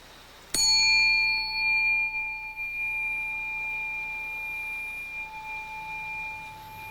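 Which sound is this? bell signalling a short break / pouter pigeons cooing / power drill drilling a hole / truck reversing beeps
bell signalling a short break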